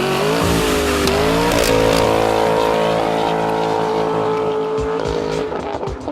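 A 2016 Dodge Challenger Scat Pack Shaker 392 V8 with a Kinney's tunnel ram performance exhaust revs loudly up close, its deep engine note rising and falling through throttle blips with a sustained rumble.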